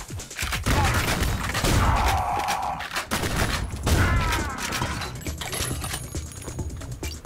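Heavy shotgun blasts and booming impacts from the retro shooter game Ion Fury punch through at irregular intervals, loud and close, mixed with rumbling game effects.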